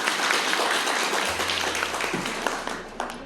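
An audience at an awards event bursts into loud, sustained applause to welcome a speaker, dense clapping filling the room with a low hum underneath.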